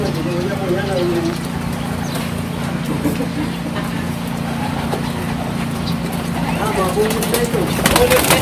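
Racing pigeons leave the loft in a flurry of flapping wings and soft cooing, close and busy over a steady low hum, while someone talks excitedly over them.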